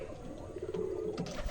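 Pigeons coo softly in a coop holding chicks and a bird sitting on eggs, a low murmuring hum close by under faint rustling.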